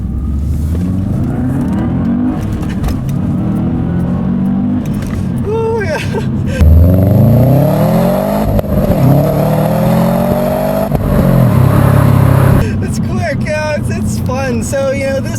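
A 2005 Subaru Legacy GT with its turbocharged 2.5-liter four-cylinder engine pulls hard on a back road, the engine note rising and shifting through revs under steady cabin road noise, with a voice talking over it.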